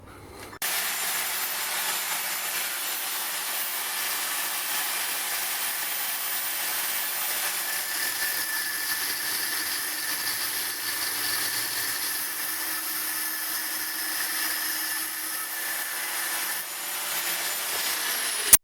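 Steady electric welding on a Yamaha XT 600 motorcycle frame beneath its fuel tank, a continuous crackling hiss running unbroken for most of the span with a brief gap at the start.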